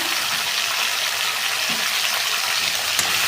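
Prawns fry in a pan with a dense, steady sizzle, green chilli and ginger-garlic paste added, the hiss loud and close with only a faint clink of a utensil and no talking.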